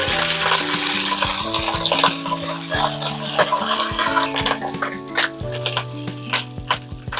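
Curry leaves crackle and sputter in hot oil for Pallipalayam chicken, a busy frying hiss with scattered pops, all under loud background music.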